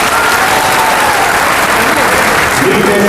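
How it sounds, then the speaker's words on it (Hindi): Loud, dense applause from a large crowd at a Samajwadi Party political rally in Malegaon, continuous clapping filling the whole stretch without a break, close and heavy. "तालियां बजाकर स्वागत कीजिए।"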